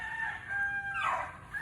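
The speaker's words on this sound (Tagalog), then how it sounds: "Daming manok." A rooster at a game farm in Antipolo crows once, close and clear, over a steady background of other birds and outdoor noise.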